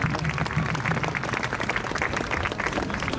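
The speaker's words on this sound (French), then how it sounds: "Vous pouvez vous applaudir, bravo." A crowd gathered at a street march in Lyon claps and cheers, with dense, sustained applause over outdoor murmur and scattered voices.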